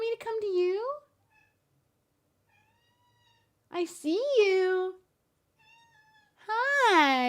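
A cat just awake from a nap gives three loud, drawn-out meows with quiet gaps between them, and a person speaks softly in the background.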